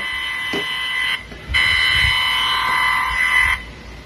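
Electronic alarm from an EMF meter phone app, sounding as a loud, steady tonal beep that stops briefly, then resumes for about two seconds before cutting off, with no talking.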